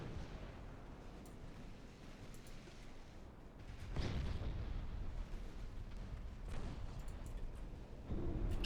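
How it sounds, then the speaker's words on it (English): A torpedo strikes a battleship in the naval strategy game Ultimate Admiral Dreadnoughts: a deep, booming explosion erupts about halfway through, over steady low rumbling battle noise, with another heavy burst near the end. "Torpedo hit on the battleship"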